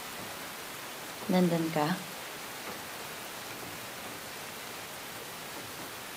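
Heavy rain makes a steady, soft broadband hiss throughout, while a voice speaks briefly near the start.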